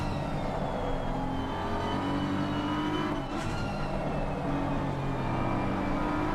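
An Aston Martin GT3 race car in Assetto Corsa Competizione drones steadily as it bogs down exiting a hairpin. The engine tone is continuous and close, with a brief rise near the middle, and there is no speech.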